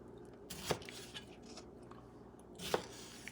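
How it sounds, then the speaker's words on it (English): A knife cutting a vegetable into chunks for pork stew, with two crisp, quiet chops about two seconds apart over a faint background. "I'm just going to cut it in chunks"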